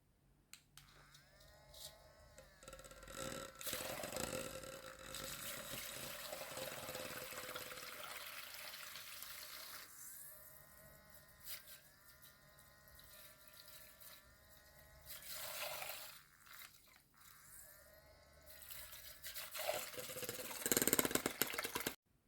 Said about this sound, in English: that was kind of the brush in motion from the camera being kind of close to it